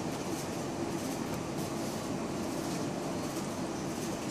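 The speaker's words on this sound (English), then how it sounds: "It's the air conditioner of the neighbors." Neighbors' air conditioner runs continuously, a steady, even broadband drone with a low rumble and no change in level, with nothing else heard over it.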